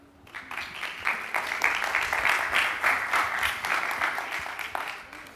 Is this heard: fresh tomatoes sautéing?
no